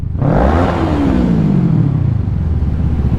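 A car engine revs hard in a rev bomb, its pitch climbing sharply and then winding slowly down over a steady, loud rumble that lasts the whole time.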